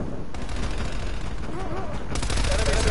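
Automatic gunfire in the shooter game Call of Duty Black Ops Cold War, rapid bursts of loud, close shots that rattle on continuously, with a brief break before another sustained burst.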